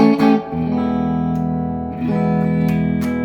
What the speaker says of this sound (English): Right now I'm just going clean into the Fender Tone Master Deluxe Reverb